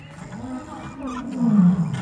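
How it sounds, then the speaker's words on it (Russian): Lions roar in a low, rumbling series of groaning calls that rise and fall, heard at moderate distance and swelling louder toward the end, with no speech over them. "Где львы?"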